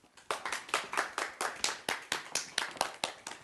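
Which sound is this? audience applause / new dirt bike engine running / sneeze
audience applause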